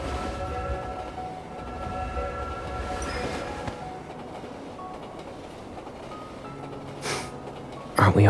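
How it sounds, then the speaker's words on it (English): A train in the game Love and Deepspace pulls away with a steady low rumble and rolling clatter, a faint horn-like tone partway through and a sharp jolt at the end. "Hold on tight. The train is about to leave."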